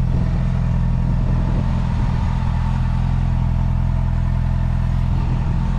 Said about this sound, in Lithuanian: Motociklas netgi pagal garsą visai dailiai dirba.